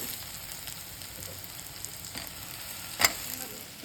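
Moringa drumsticks go into hot oil in a stone pot, producing a faint, steady sizzle with one sharp clack near the end.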